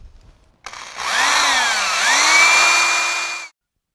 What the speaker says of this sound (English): I like to pre-drill holes. And you just do that with this drill bit.